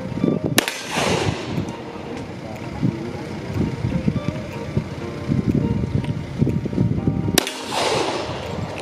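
Gunfire at an outdoor provincial firing activity: two sharp, loud single shots several seconds apart, each with a ringing decay, over a noisy, windy background with people talking.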